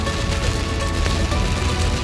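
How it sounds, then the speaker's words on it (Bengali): Heavy rain falls while a car drives through a storm, giving a dense, constant patter and drumming on the vehicle under a low road rumble, with a faint steady tone held throughout. "ডেঞ্জারাস বৃষ্টি"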